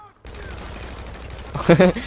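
Gunfire in a zombie mod of the video game GTA V: a quiet stretch of game ambience, then a short loud burst of shots near the end.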